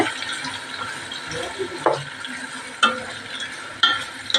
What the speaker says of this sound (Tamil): இப்போ வெங்காயத்தை போட்டு வறுத்து எடுக்கலாம் எல்லா வெங்காயத்தையும் போட்டு நல்லா ஒரு பொருள் வறுத்தெடுக்கலாம்